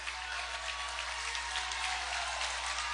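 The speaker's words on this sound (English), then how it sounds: "The crowd is getting into it here at Whittier Field." A college football crowd at Whittier Field in a Bowdoin versus Williams game gives a steady wash of cheering and applause, distant and fairly faint, with no voice on top.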